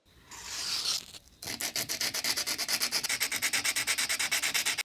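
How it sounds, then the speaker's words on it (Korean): Hand sanding a handle: a steady rough scrape of coarse sandpaper at first, then after a short pause a fast, even back-and-forth rubbing of fine sandpaper, close and fairly loud. "이 거친 사포부터 여기 고운 사포로 올라가면서 그렇게 연마를 해줄 거예요"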